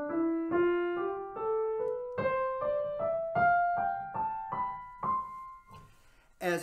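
A piano plays an ascending scale, one note at a time at a steady pace, with some notes landing noticeably louder than others from an uneven thumb.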